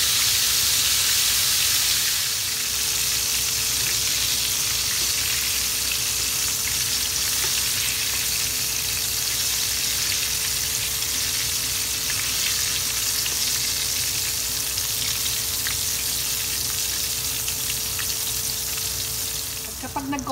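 Calamari deep frying in hot oil, a steady dense sizzle and crackle that continues loudly and evenly throughout with no talk over it.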